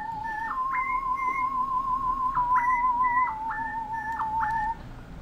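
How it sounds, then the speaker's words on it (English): A synthetic whistle-like lead plays a short sliding melody over a low steady backing, with pitch bends jumping up and down. "then we go to the second trap whistle"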